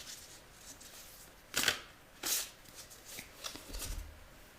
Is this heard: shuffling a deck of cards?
yes